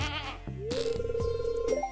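A goat in the farming video game Stardew Valley gives a short, wavering bleat, loud and close, alone without talk, followed by a steady held tone of the game's soft background sounds.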